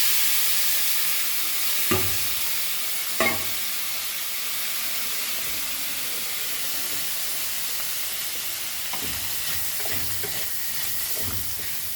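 Fried potatoes cooking in oil with Goan xacuti masala, hissing and sizzling steadily throughout, broken by a few sharp utensil clacks and stirring scrapes, with no voices over it.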